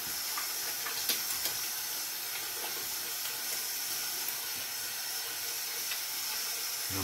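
Steady running water rinses hands at a sink after applying black soap and flaxseed shampoo, a constant close hiss with a few faint clicks and no talk.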